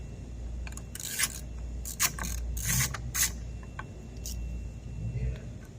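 A 10mm socket works a screw out of a door panel on a 1995-1999 Nissan Gloria/Cedric Y33, giving a series of short ratcheting clicks and scrapes in quick clusters at close range.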